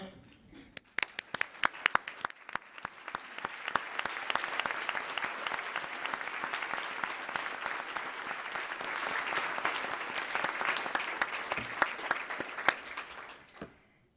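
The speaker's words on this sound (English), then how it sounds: "Would the Harmony Project members in the audience please stand and let us applaud you?" An audience applauds Harmony Project members, starting with a few scattered claps, then swelling into sustained, full applause that tapers off at the end.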